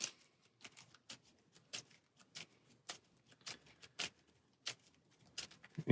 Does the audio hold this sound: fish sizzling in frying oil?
no